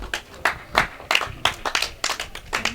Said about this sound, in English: Well, you can hear the applause here.